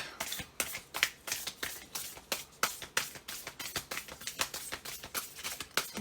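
Cards from a very large deck are shuffled by hand in a steady run of crisp riffling bursts, close and fairly quiet, with no voices.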